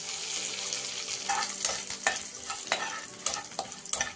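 Mustard seeds, garlic, curry leaves and dry red chillies sizzle in hot oil, a close, steady hiss broken by repeated popping crackles and sputters.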